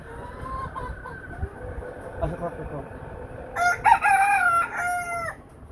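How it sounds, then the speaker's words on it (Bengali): Hens cluck softly nearby while a rooster lets out a loud, drawn-out crow near the end, with low background murmur from the poultry yard. "আচ্ছা মুরগিগুলো দেখান একটু আমাদের এই যে মুরগিগুলো"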